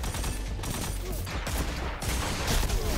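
Dense, continuous video-game gunfire: a weapon firing three-shot bursts amid loud, cluttered battle noise, rapid shots running together without pause.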